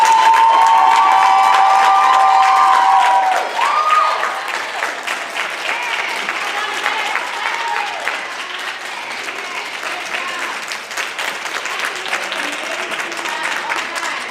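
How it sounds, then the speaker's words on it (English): A pageant audience at the Ms. Full Figured USA preliminaries gives a loud, sustained round of applause mixed with cheers and shouts, the clapping holding steady for over ten seconds. "give them another round of applause"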